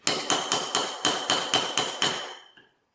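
Eight sharp hammer blows drive a chisel against engine soft plugs on a 1962 AMC Rambler engine, loud and close, struck in a steady, even rhythm, each metallic strike ringing briefly before the next, with no talk.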